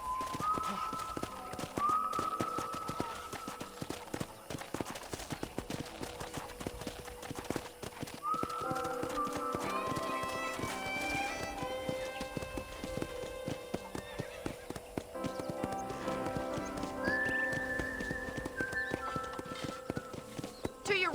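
Steady clip-clop of horse hooves at a trot on a ranch in Red Dead Redemption, over continuous background noise, with occasional whinnies and whistle-like tones.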